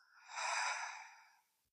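A slow, soft exhale through the mouth during a prenatal yoga breathing practice swells to a gentle breathy rush and fades away, faint and close, with no talking.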